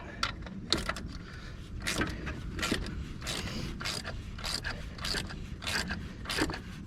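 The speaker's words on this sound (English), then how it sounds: "Probably a couple more turns on the old tensioner there." A belt tensioner on a Jeep Wrangler is turned by hand with a tool, giving a steady series of close ratcheting clicks and creaky mechanical turns at an even pace.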